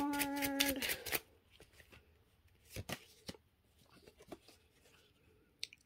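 Playing cards riffle-shuffled in a quick burst, then single cards drawn and slapped down in soft, sparse flicks and taps close by, with a few quiet rustles in between.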